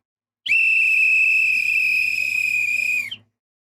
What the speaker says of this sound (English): There's that final whistle.